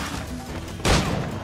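A single gunshot cracks out at close range in Assassin's Creed Black Flag, a sharp broadband burst cutting through a steady bed of game ambience.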